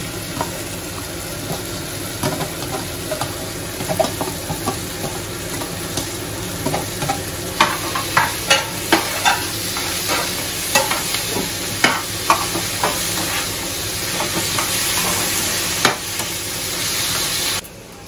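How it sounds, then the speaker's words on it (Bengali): Mashed vegetables for pav bhaji sizzling and frying in a pan while being stirred, a constant loud hiss broken by repeated spatula scrapes and taps up close. "এবার এই ম্যাশ করা সবজিটা এর মধ্যে দিয়ে দিচ্ছি।"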